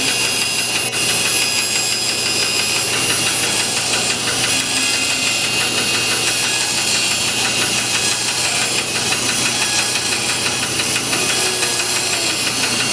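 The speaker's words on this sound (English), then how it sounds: "Now we're just going to use the bandsaw, or just do a bunch of cuts." A bandsaw runs steadily and loudly while making a series of nibbling cuts into wood. Its motor hum and blade noise stay continuous and close, with no talking.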